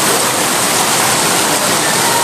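Loud, steady rush of overflowing drain water pouring through a flooded street in Kurla's Sanjay Nagar, Mumbai, with water standing about two feet above road level. A continuous broadband roar fills the whole clip.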